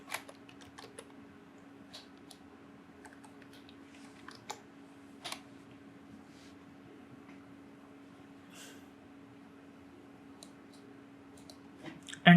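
Keys on a computer keyboard clatter in sparse, separate clicks while a Java hello-world class is set up, with a few sharper taps including the Enter key near the end; quiet and close, no speech.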